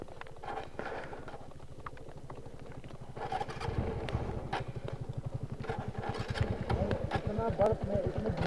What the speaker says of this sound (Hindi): आ रही है बाइक, बिना गिरे।